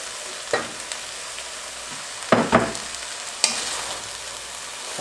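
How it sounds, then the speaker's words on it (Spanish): Cabbage is stirred into a pot of sizzling cabbage soup with squash and mushrooms, with a soft frying hiss broken by several sharp spoon scrapes and knocks, two of them close together. "Otra vez revolvemos"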